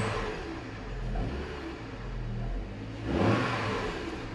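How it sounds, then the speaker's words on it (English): A Hummer H3 five-cylinder engine runs with a deep, rumbling hum, rising into a brief, stronger rev near the end, close and fairly loud with no voices. "A really strong sounding engine."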